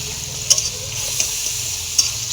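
Khichdi spices, cashews and onions stir-fried in a pan: a steady loud sizzle broken by three sharp scraping clinks of a spoon against the pan.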